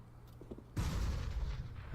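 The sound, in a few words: grenade thrown and exploding in a video game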